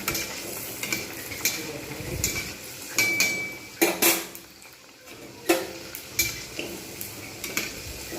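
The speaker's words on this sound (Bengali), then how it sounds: "এক পিঠ হয়ে গেলে তারপরে আমি আরেক পিঠ ভেজে নেব" Potato-stuffed puris fry in hot oil with a soft, steady sizzle, broken by sharp metal clinks and taps of a utensil against the pan at irregular intervals.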